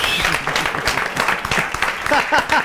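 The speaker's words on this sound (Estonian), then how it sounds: "Suur aplaus võitjatele." Studio audience at an Estonian TV game show applauding the winning team, a steady crackle of clapping that stays level and fairly loud throughout, with voices mixed in underneath.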